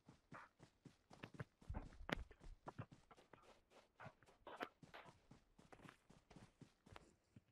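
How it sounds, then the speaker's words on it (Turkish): Footsteps in the video game PUBG on the Livik map: a rapid, steady train of close, crisp steps running for the whole stretch, loud and alone. "Ayak sesi var ha, dikkat et."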